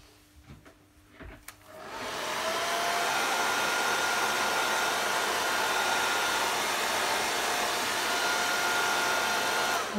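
A hair dryer blasting air to dry fresh paint on a collage, starting up after a few faint handling clicks and then roaring steadily and loudly close by for the rest of the clip.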